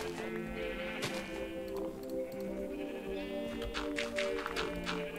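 Sheep in the video game Minecraft bleat repeatedly over steady background music, several wavering calls overlapping across the whole stretch at moderate, even loudness.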